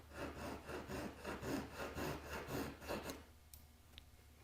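A flat blade rasps rhythmically along overhanging edge banding, trimming it flush in about a dozen steady strokes before the scraping stops and only a faint room hum remains.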